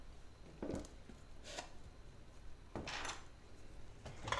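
A utensil stirs caramel topping in a pot, giving faint, intermittent scrapes and clinks of metal against cookware, spaced irregularly over a quiet background.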